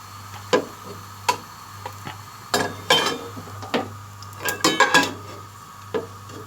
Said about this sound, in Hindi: प्याज को अब हम प्लेट में निकाल रहे हैं।